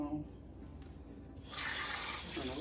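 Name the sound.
water running from a kitchen tap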